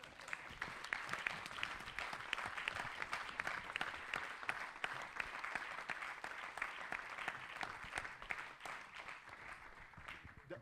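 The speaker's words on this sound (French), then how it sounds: "Je vous souhaiterais qu'on applaudisse pour tout le monde" An audience at the closing of a regional nature gathering breaks into sustained applause, a dense, even clatter of many hands that carries on for about ten seconds, somewhat distant and soft.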